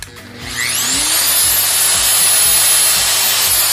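A dry core drill running in rotation-only mode with the hammer function switched off, spinning up to a steady, loud, high-pitched whine with a rising tone as the motor reaches speed and then holds.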